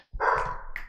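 A single sharp bark from a dog nearby, brief and loud, standing alone with no talking.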